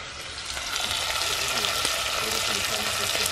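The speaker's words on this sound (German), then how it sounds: "Ich brate etwas größere Stücken wie vorher an" Fairly large pieces of Kassler smoked pork frying in a pan, a loud, steady, close sizzle that holds evenly throughout.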